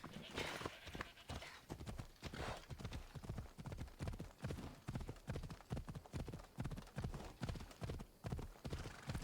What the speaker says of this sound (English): The horse makes satisfying noises when it runs. It sounds really strong and fast.